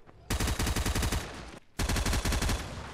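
Fortnite Mobile automatic weapon fire rattles in two long rapid bursts separated by a brief pause, loud and close.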